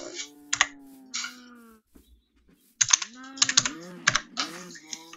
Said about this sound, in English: he just wants me to keep typing